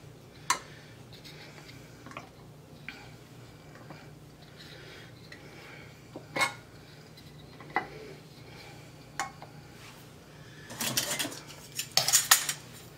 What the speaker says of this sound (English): I'm just going to drop on my lids.